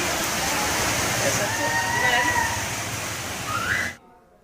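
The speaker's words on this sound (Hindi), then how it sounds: "लगातार हो रही मूसलाधार बारिश से शहर पानी पानी हो गया है।" Heavy torrential downpour in Agra, a dense steady hiss of rain with rushing water beneath, loud and continuous before cutting off abruptly near the end.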